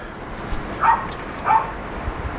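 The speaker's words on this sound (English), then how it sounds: "Dog will bark all day like that." Outdoors, a dog gives two distant barks about half a second apart over steady background noise.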